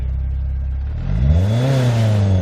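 A BMW E36 engine revs hard against a badly slipping clutch: a low idle rumble swells after a second into a loud, rising then wavering whine-laden roar that holds steady, close up and without talk.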